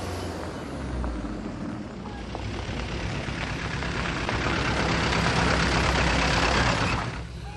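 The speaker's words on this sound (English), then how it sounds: "look, the truck's turning around in our driveway" A truck turning around in a driveway beside a newly built road in rural Thailand, heard as a loud, steady engine rumble and broadband roar that swells gradually and cuts off near the end, with no talking.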